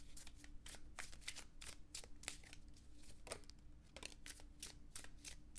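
Tarot cards are shuffled by hand in a quiet room, a run of soft, rapid riffling and flicking bursts repeating at an uneven rhythm, close and faint, with no talking.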